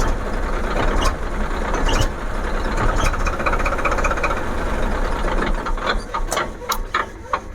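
A tractor diesel engine runs steadily after its fuel pump nut has been fully loosened, a loud continuous rumble with slight fluctuation and a few sharp clicks toward the end.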